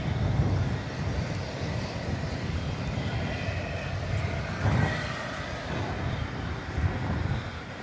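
An Airbus A321 on the runway at DFW Airport at night, a broad steady engine roar held at a constant level from a distance, with no voices.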